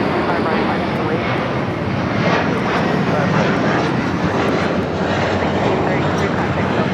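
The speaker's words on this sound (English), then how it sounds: "runway 25 right, clear for takeoff" A fixed-wing airliner roars down runway 25 right on takeoff at Los Angeles LAX, a loud, steady broadband engine rumble filling the whole stretch without letup.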